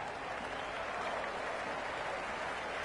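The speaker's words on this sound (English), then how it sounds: "There's a buzz, a real buzz coming from the stands" A stadium crowd in the cricket video game Cricket 26 applauds in a dense, continuous wash of clapping and cheering, loud and unbroken throughout.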